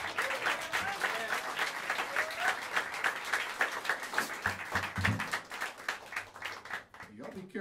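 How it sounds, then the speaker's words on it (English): Sustained audience applause fills Smalls Jazz Club after a jazz quartet's blues number, dense clapping that swells and gradually thins, with a few voices mixed in near the end. "that was almost more applause than I got"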